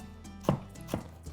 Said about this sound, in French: je vais venir couper tout petit